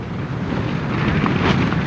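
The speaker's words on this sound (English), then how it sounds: "it's just too windy" Strong wind blows in straight off the coast at Bouddi National Park. It is a steady, loud roar that buffets the microphone without break, and no one speaks.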